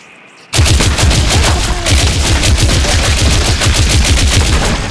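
Rapid automatic gunfire erupts after a brief quiet start and continues loud and unbroken, with sharp repeated bursts like a video game firefight.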